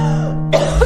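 A single harsh cough, raw and throaty, bursts out close and loud after a brief lead-in hum, with no talking around it.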